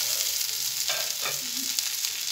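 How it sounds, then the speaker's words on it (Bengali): Fish frying in oil in a small frying pan, a continuous bright sizzle with soft stirring scrapes, no talking. "এখন ঢাকনাটা ঢেকে আরও ভাজি করে নিতে হবে ও পিঠেও"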